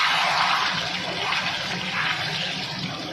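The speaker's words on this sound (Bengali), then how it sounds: "এবার সামান্য একটু জল দেবো, অল্প করে" A small splash of water goes into a pan of chicken kosha on low heat after the oil has separated, giving a steady hissing, bubbling rush that holds for about three seconds with no voices.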